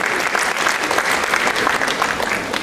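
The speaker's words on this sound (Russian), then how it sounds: "Ваши аплодисменты!" Audience in a hall applauding a singing contestant, dense, steady clapping from a crowd lasting throughout with no break.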